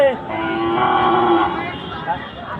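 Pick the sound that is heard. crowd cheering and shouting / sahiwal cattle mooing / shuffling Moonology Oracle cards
sahiwal cattle mooing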